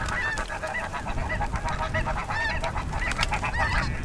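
A flock of snow geese honks continuously overhead in flight during spring, many overlapping calls forming a dense, steady chorus that stays loud throughout.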